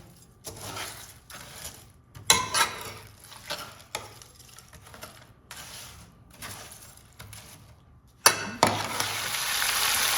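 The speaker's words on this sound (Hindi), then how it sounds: "अब मीडियम आंच पे हमने फ्लेम रखी हुई है और इसको अच्छे से भून लेना है।" Ingredients for a chicken and potato curry fry in a pan over a medium flame, with soft sizzling broken by intermittent stirring scrapes and clinks, and a louder sizzle surge near the end.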